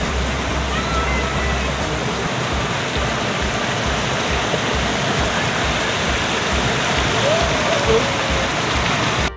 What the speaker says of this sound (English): the one I'm stepping on, it's on a muddy river